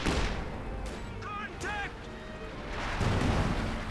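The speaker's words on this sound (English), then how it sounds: "we got the flanking place getting bombarded" Artillery bombardment in Company of Heroes 2 hitting a flanking position, a dull rolling rumble of shelling that swells toward the end, mixed with short whistling tones and other battle effects under a commentator's voice.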